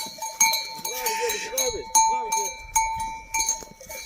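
Sheep and lambs bleat repeatedly nearby, overlapping calls amid clanking bells, with a person's voice mixed in.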